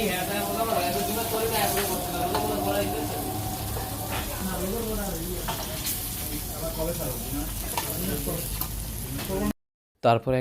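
Hilsa fish frying in hot oil at a riverside ghat eatery, a steady loud sizzle and crackle running throughout, with people talking over it before a sudden cutoff near the end.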